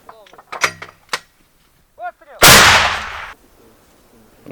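A voice calls out sharply in Ukrainian, then a single heavy artillery blast booms close and loud, its roar fading over about a second.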